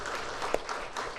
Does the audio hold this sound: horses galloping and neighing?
no